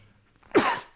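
A single sharp sneeze bursts out suddenly after near silence in a podcast room and trails off quickly.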